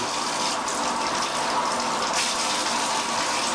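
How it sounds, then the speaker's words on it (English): Hot water pours steadily from a household tap during a house pressure test, a continuous, fairly loud hiss and splash that holds even from start to finish with no talking. "Let's just run some hot water here to get the oil burner to run."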